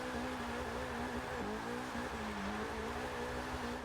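A Porsche 944 Turbo drifting in Forza Motorsport 6, its engine droning steadily with a wavering pitch as revs rise and dip through the slide, close and continuous.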